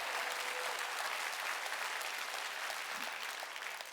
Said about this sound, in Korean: 깨달은 사람만 박수라고요